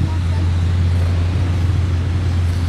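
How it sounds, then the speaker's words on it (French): A Bugatti Mistral's W16 engine runs in Monaco, a steady, deep, close drone that holds constant throughout with a low rumble and broad background noise. "Le fameux W16, on se trompe pas chez Bugatti."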